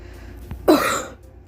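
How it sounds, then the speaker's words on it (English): A single throat-clearing cough bursts out near the middle, close and fairly loud, preceded by a faint short catch of breath and followed by quiet room tone. "Damn, I'm coughing again."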